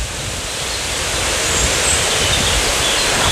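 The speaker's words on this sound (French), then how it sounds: "Le vent il souffle fort dans les arbres." Strong wind roars steadily through forest trees, a broad rushing wash with leafy rustle that holds close and loud for the whole stretch, with no voices over it.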